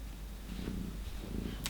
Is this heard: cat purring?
yes